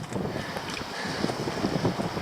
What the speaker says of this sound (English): I'm in a cove here because it's quite windy.